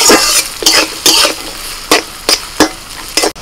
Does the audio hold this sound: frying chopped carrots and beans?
yes